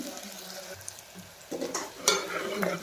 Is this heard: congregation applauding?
no